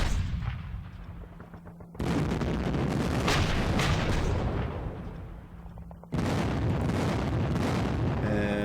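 Artillery batteries fire in the wargame Panzer Campaigns Kiev 43, heavy booming salvos in two loud rumbling waves that decay slowly, with no talk over them.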